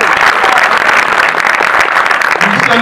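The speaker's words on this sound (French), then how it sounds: "Applaudissez Phil Darwin." An audience claps continuously and fairly loudly through the whole stretch, a dense, steady wash of hands with no pauses. It is at a film debate event.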